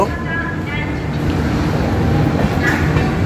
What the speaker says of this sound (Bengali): আমাদের ট্রেন প্ল্যাটফর্ম নম্বর তিন থেকে দ্বিতীয় স্টপেজ দুর্গাপুর ছাড়ল